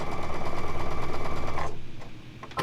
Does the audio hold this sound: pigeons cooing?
no